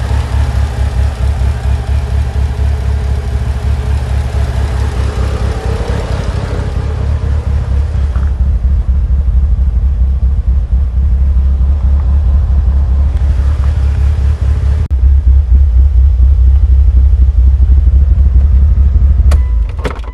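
A Mitsubishi Evo 8 fitted with HKS 272 cams idles with a heavy, uneven lopey rumble, the deep pulsing engine note loud and close throughout, steady over a long stretch with no talking.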